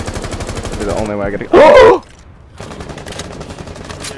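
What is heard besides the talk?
gunfire wall bang in video game Rainbow Six Siege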